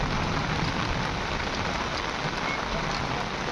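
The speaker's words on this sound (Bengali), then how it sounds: "ওই বেটা বৃষ্টি জোরে নামতেছে" Heavy rain pours down steadily, a dense, even hiss of drops striking surfaces that stays loud and unbroken, with no voices.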